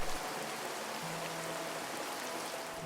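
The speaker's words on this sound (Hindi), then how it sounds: "तेज आंधी के साथ मूसलाधार बारिश होने लगी" Dense, steady rain pours down with a constant hiss, no voices, even and unbroken throughout.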